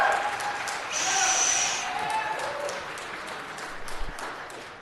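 Applause from an audience at a city council meeting, a dense steady patter of many hands clapping at a moderate distance, swelling briefly before easing off.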